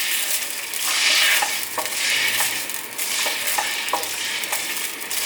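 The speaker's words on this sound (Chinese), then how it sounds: "再继续翻炒" Lotus root and pumpkin stir-fried in a pan after water is added, a steady close sizzle with scraping spatula strokes and a few light taps against the pan.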